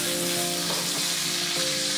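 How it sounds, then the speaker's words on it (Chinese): Onions frying in hot oil in a wok until golden, a loud, continuous close-up sizzle with faint stirring scrapes, no voices. "起锅烧油，油热后放洋葱炒至焦黄"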